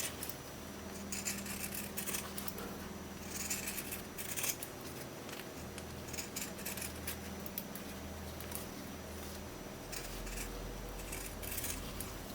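Scissors snip through the seam allowance of sewn fabric for a small stuffed toy bunny's ear and head, soft close crisp cuts and rubbing in a quiet room with steady background hum.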